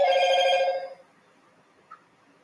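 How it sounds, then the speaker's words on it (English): A telephone rings once: a bright, buzzy ring for about a second, close and loud, then it cuts off into near silence with a small click afterward. "Sorry, that was my phone."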